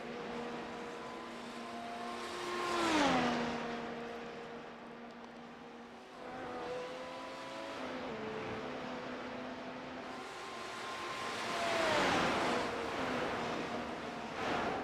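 F1 race cars at Interlagos in a sim racing game whine past one after another, their engine pitch dropping sharply as two cars sweep by close, no talk.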